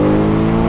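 A Mercedes E63 AMG engine revs hard while driving, a loud, dense roar with strong steady harmonics sustained through the short moment, no voices over it.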